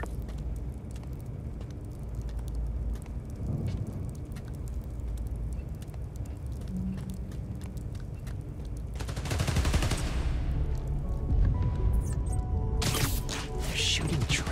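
Gunfire aimed at power transformers during a power-station mission in Spider-Man Miles Morales on PS5, heard as a steady crackle of shots under a low rumble that swells into louder bursts and impacts near the end, with no talk.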